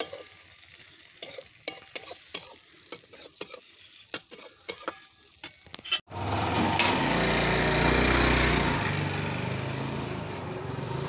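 Vegetables stir-frying in a pan, first a run of sharp scraping stirs and clinks, then a loud steady sizzle of frying that fills the rest.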